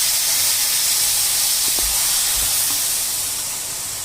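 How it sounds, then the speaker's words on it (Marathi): Hot milk hitting a pan of roasting pineapple sheera, a loud steady steaming hiss that fills the whole stretch, with a couple of faint knocks partway and a slight fade at the end. "आता लागेल तेवढं आपण दूध टाकू त्याच्यात"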